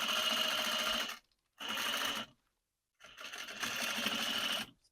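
A sewing machine stitches a pillow seam in close, loud bursts: two short runs, a pause, then a longer run that ends with a brief backstitch.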